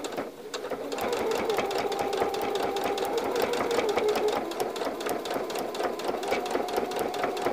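Steady, rapid mechanical whirring and ticking of a sewing machine stitching fabric binding into an inner corner, close and continuous at an even pace from start to finish.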